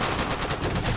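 Dense gunfire in Call of Duty: World at War, a loud continuous clatter of shots filling the whole moment with no gaps.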